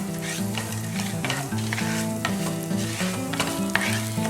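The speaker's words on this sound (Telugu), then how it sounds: "పప్పులు బాగా ఎర్రగా కాలిన తర్వాత ఎర్ర గోధుమ ఒక టేబుల్ స్పూన్ వేసుకోవాలి" Dals and red wheat dry-roast in a pan, crackling and sizzling steadily with scraping stirs throughout, close and busy, with no talking.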